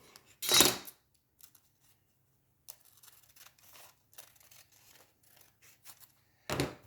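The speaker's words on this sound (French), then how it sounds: "Et vous coupez." A pair of crisp scissor snips cut through lace-patterned paper, one early and one at the end, with quiet rustling and handling noises between them.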